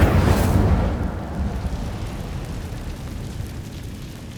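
A fire spell cast in the Hogwarts Legacy video game sets off a loud whooshing burst of flame that rumbles and then trails into a crackling, fading roar over several seconds, with no voices.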